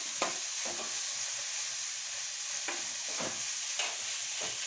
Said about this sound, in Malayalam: ഇപ്പം ഇത് നന്നായിട്ട് ഈ സവാള ഉള്ളി എല്ലാം വഴന്നിട്ടുണ്ട്